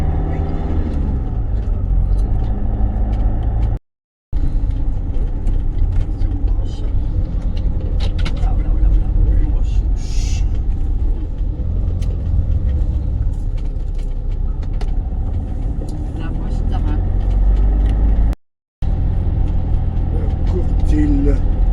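A camper van drives along a road in Normandy with a steady, loud engine and road rumble, heard from inside the cab while people talk over it.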